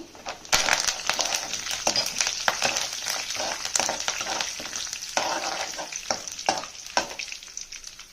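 Dry red chillies and curry leaves crackle and sizzle in hot oil, a steady loud frying hiss broken by sharp pops and spatters, with stirring clatter close by throughout.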